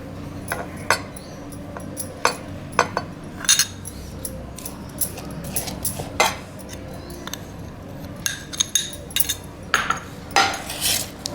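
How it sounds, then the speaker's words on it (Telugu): A spoon scraping and clinking in a vessel while mango pickle is stirred with ground chilli powder, irregular clinks and scrapes at close range with no talk. "వేసి బాగా కలుపుకోవాలి"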